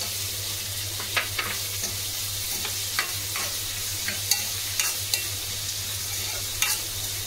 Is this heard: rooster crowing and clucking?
no